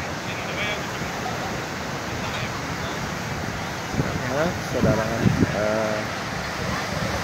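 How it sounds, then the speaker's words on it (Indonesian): Ocean surf rolls in steadily on Kuta beach in Bali, a constant broad wash of breaking waves with wind, and a voice speaks briefly over it near the end. "betapa bagusnya ombak-ombak ini menuju ke tepi pantai."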